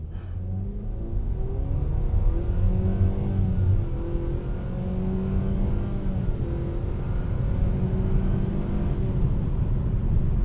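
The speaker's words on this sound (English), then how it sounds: "Let's go ahead and do a quick 0 to 60." A 2025 Nissan Sentra SR with a CVT, in sport mode, launches at full throttle from a standstill, its engine droning loud and steady with rising harmonics from inside the cabin, heard alone without talk.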